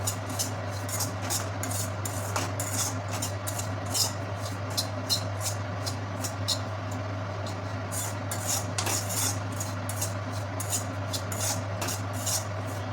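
Semolina being dry-fried and stirred in a pan for barfi, heard as a continuous scraping rasp of a spoon against metal that repeats in quick strokes over a steady low hum.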